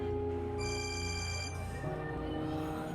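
A phone rings with an incoming call, a clear electronic tonal ringtone shifting pitch through a short melodic pattern, close and steady with no talk over it.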